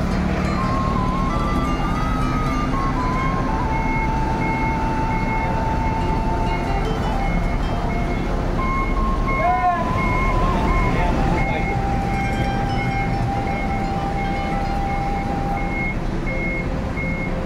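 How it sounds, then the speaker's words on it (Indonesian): A double-decker bus reverses into a parking spot, its steady reversing beeper repeating throughout over a loud idling diesel engine and surrounding traffic rumble, with faint voices in the background. "Transport dimundurkan, sedang ambil posisi parkiran ya teman-teman."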